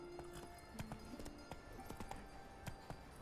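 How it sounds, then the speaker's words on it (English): Horse hooves clip-clop in The Witcher 3 video game, a string of sharp, irregular close footfalls over a steady game background, with a faint snort or whinny possible. "Why is my horse here?"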